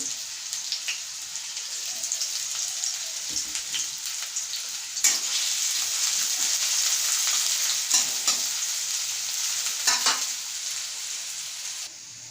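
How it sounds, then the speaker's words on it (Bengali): Chopped onions frying in hot oil, with a steady close sizzle and occasional louder bursts and stirring scrapes across the whole stretch, no voices. "তেলটা একটু গরম হয়ে গেলে তার মধ্যে দিয়ে দেব কুচানো পেঁয়াজ পেঁয়াজটা লাল লাল হয়ে ভাজা হতে থাকবে"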